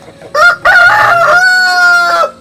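A backyard rooster of a native village flock crows loudly up close in one long drawn call, broken by a brief pause, with a few clucks at the start.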